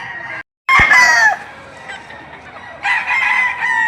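Stag roosters, young gamecocks, at the Padre Garcia livestock auction market in Batangas, crowing loudly nearby in two bursts, the second coming after a short lull, with faint market background.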